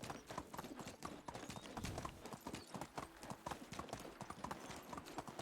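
Horse hooves clip-clop at a steady walking pace in the medieval video game Medieval Dynasty, an even, continuous run of soft hoofbeats over faint outdoor ambience.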